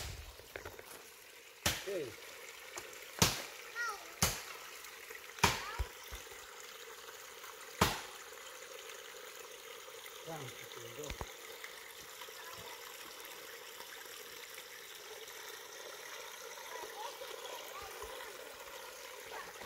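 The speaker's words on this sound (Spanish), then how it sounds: "¿Cómo se escucha el sonido del agua?" A stream flows with a soft, steady wash of water in an outdoor rural setting, fairly faint and continuous, broken early on by several sharp knocks or taps.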